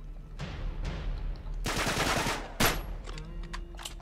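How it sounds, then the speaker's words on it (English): Gunfire in the Uncharted 3 video game during a castle shootout: scattered single shots, then a dense automatic burst and a sharp loud crack, with further shots trailing off against game background noise. "Still being shot at."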